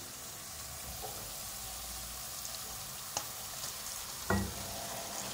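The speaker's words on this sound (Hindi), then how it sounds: "कीमा मैंने मैरिनेट किया था, ये डालूंगी इसमें।" Marinated minced meat fries with golden-browned onions for Bihari dum qeema, a faint, even sizzle with a few soft clicks and a small stirring knock near the end, quiet and without speech.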